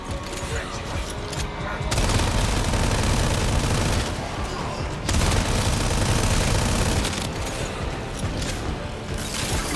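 Rapid, dense automatic gunfire from a Warframe gun modded for a much higher fire rate, with loud sustained bursts and brief pauses.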